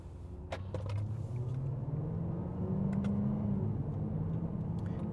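A 2023 Jaguar F-Type R Dynamic, an Audi S4 and an Infiniti Q60 RS accelerating in a drag race, heard as a steady low engine rumble from inside a car with a gradually rising tone and faint clicks.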